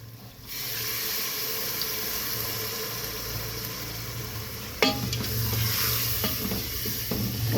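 Nihari masala sizzles steadily in a pan after water is added, with stirring and a sharper clatter partway through, quiet and close, with no speech.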